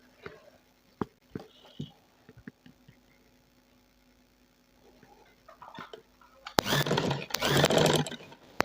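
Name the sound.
sewing machine stitching lace onto fabric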